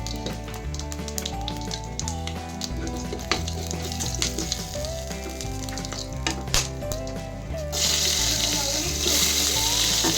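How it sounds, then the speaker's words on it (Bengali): Whole cumin seeds and black peppercorns frying in hot oil in a wok, a crackling sizzle under background music that swells into a louder, steady hiss partway through. "কড়াইতে আমি তেল গরম করে গোটা জিরে দিয়ে দেবো"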